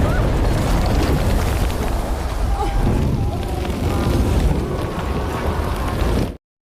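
Explosions in a war film: continuous loud rumbling blasts and booming roar, dense and sustained for several seconds before cutting off abruptly.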